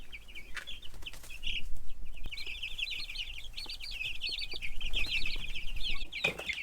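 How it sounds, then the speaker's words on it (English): Young meat chickens out on pasture cheep and cluck continuously in a busy, overlapping chorus, close by and fairly loud, with scattered knocks and rustling underneath and no talking. "We're 2 weeks into raising these meat birds."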